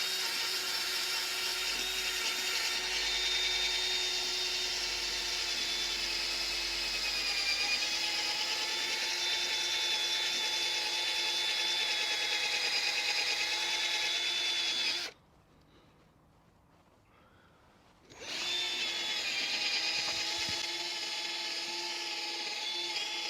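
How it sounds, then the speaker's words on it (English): A high-pitched power tool whines steadily while polishing aluminium wheels, cutting out for a few seconds and then starting again at the same pitch. "And now it's time for a bit of polishing."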